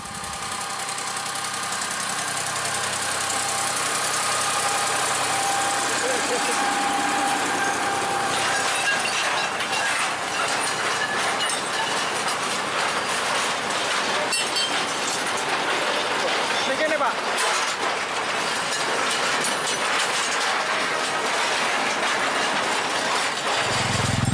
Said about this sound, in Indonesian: lokomotif yang sama, lokomotif kecil nomor 7 membawa lori bermuatan ram atau rel portable